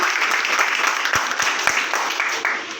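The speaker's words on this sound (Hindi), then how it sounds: "अपने आप के लिए जोरदार ताली होनी चाहिए।" An audience at a business speech in Hindi claps loudly and steadily, broadband applause sustained throughout with a few sharper individual claps standing out.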